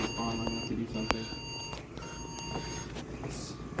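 An old computer gives error beeps: thin, high electronic tones over a low background hum, with a few soft clicks from handling the machine.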